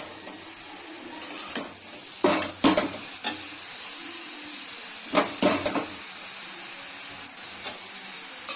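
A wok of fried vegetables and greens clatters and knocks on the stove, with loud irregular metallic bangs and scrapes in bursts over a soft background sizzle, no talking.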